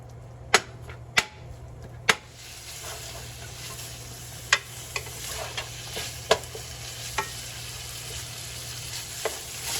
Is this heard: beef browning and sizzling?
yes